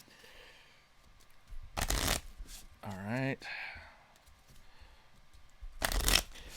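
Playing cards for the Arkham Horror board game shuffled into a deck: two crisp riffling bursts near the start and end, close and loud, with a brief spoken remark in between.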